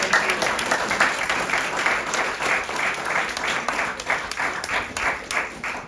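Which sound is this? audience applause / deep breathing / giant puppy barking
audience applause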